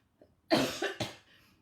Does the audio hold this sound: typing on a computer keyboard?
no